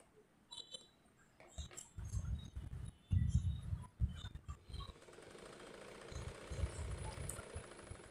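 A sewing machine runs in short bursts as it topstitches a gathered frill onto a garment neckline, with low mechanical rumbling that stops and restarts, close and fairly quiet, with no talking.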